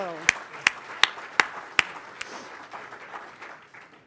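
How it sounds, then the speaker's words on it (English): A handful of sharp, evenly spaced claps ring out at a World Trade Week NYC event, then thin into a faint, fading patter. "Let's please give them a round of applause."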